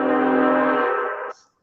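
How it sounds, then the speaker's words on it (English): A train horn sounding in the background outdoors, one sustained, rich, steady blast lasting over a second before cutting off sharply, fairly loud with a faint noise after it. "Excuse the train in the background."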